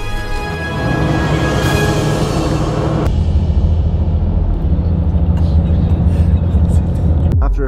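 A long-distance bus drives on the road through the Colorado desert, with a loud, constant low engine and road rumble heard from inside the vehicle throughout.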